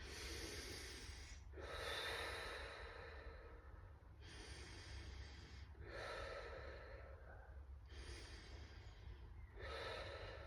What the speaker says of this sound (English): Three breaths through your mouth and then 3 breaths through your nose.